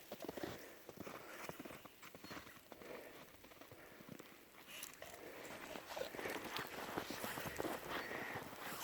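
Horses walk through snow in a blizzard, their hooves giving a steady, irregular clip-clop of soft thuds close by, with a windy hiss underneath and no talking.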